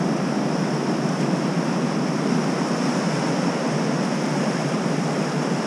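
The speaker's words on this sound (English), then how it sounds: "Gotta be brave surfing today. Good waves though." Ocean surf breaking on a cold, stormy beach, a steady broadband roar of waves washing in continuously with wind noise on the microphone, loud and close, no voices.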